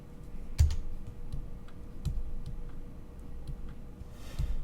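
Scattered presses on a computer keyboard, a handful of sharp close clicks and light taps at an unhurried pace over quiet room tone, with no one speaking.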